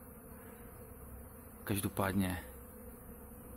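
Honeybees take their first flights after winter while snow still lies on the ground at 575 metres in the Vysočina highlands. A faint, steady buzzing runs throughout, and a person speaks briefly partway through.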